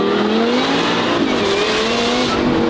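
A supercharged car engine fitted with a valved exhaust, valves closed, idles and revs steadily with a thin rising supercharger whine over a loud continuous drone, close by with no talking.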